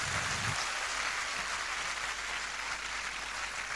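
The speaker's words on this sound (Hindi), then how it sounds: "सबसे जोरदार तालियां।" A large audience at a Safe Shop team meeting bursts into loud, sustained applause, a dense, even clatter of many hands clapping that holds steadily for several seconds.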